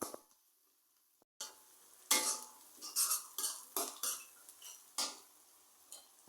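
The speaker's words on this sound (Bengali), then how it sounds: "এখন মাছ ভাজার যে তেলগুলো ছিল সেই তেলের মধ্যে পেঁয়াজ কুচিগুলো দিয়ে দিলাম।" Chopped onions go into leftover oil from frying pangas fish, followed by faint sizzling and a run of metal spatula scrapes and clinks against the pan, in uneven bursts close by.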